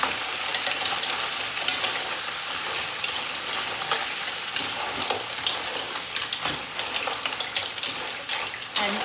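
Mussels sizzle loudly in a hot pan, with bright, hissing frying noise and scraping clatter as they are tossed and stirred, close and continuous.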